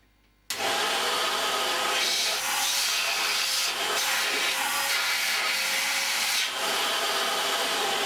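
A 750 watt vacuum cleaner switches on abruptly after a brief quiet moment, then runs with a steady, loud, broadband whoosh for the rest of the clip, with slight fluctuations in the airflow.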